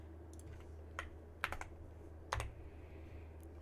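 A password typed on a computer keyboard: a few scattered quiet key clicks in short bursts, recorded close over a low steady hum, with no talking.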